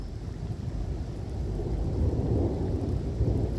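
Low thunder rumbles and swells, growing louder partway through over a steady patter of rain.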